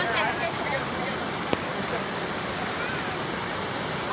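A waterfall at Pitlabura in Odisha pours with a steady, dense broadband rush that stays loud and even throughout, with one brief sharp click near the middle.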